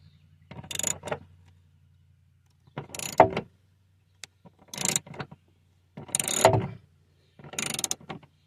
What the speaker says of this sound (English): I got a wrench wedged here and then a ratchet on top